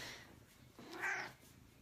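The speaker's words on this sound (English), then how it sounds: "If you can hear that, that's my cat." A pet cat gives a single short meow close by, fairly faint against a quiet room with no talk.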